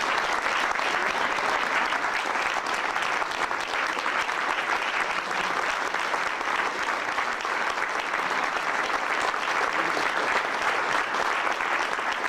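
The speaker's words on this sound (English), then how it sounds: "Let's give her a nice round of applause." Audience applause at a 1998 Rotary club meeting greets the new club president, a long, even wash of many hands clapping, steady and full for over twelve seconds with no speech.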